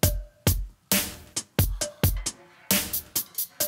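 A drum machine plays a changed percussion pattern: sharp, loud, closely spaced hits fall in an uneven, syncopated rhythm, each struck beat decaying quickly, with no voices.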